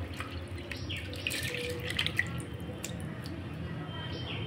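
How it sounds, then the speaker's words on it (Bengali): Soaked rice for chicken biryani being rinsed and covered with fresh water, a soft continuous wash of dripping and sloshing liquid close by, steady and moderately quiet with no talk. "আবার ভালো করে ধুয়ে আমি ভালো জল ঢেলে দিলাম"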